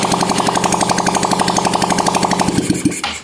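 A small motorcycle engine, kick-started, runs with a loud, rapid chugging rhythm, close up, then revs briefly and cuts out near the end.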